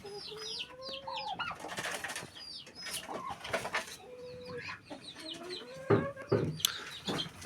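Chickens cluck and squawk in a farmyard, with repeated overlapping calls from several birds at close to moderate distance and a few louder outbursts near the end; no talk.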